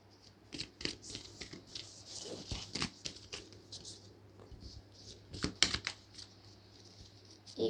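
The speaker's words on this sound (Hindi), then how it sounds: "एक बार और शफल करती हूँ" Tarot cards shuffled by hand in a quick, uneven patter of soft riffles and taps, close and fairly quiet, with a steady low hum underneath and no talking.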